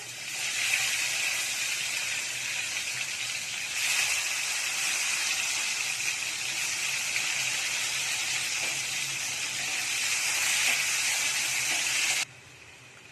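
Tomatoes sizzle steadily in a hot pan for tomato tamarind rasam, a close, continuous hiss that stops abruptly near the end.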